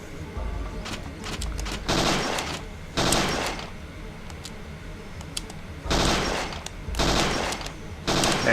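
Bursts of gunfire at a shooting range in the PS1 game Parasite Eve 2, several loud clusters of shots separated by quieter gaps, with no talk over them.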